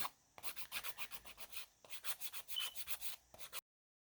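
A nail file rasps back and forth over dip powder acrylic nails to shape the apex, giving close, rhythmic scratchy strokes in two bursts separated by a short pause, with no talking.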